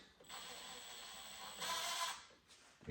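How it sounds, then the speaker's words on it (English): A drill drives a GRK screw into a wooden newel post, a steady mechanical whir that swells louder partway through, then cuts off before a brief final burst. "So I'm going to drill that in until it countersinks."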